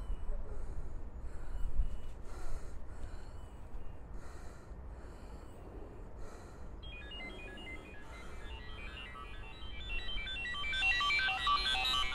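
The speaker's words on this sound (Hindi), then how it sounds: "बेगम का फोन आ गया," A mobile phone ringtone sounds for an incoming call outdoors in falling snow, its bright repeating melody rising over rustling and breathing noise in the last few seconds.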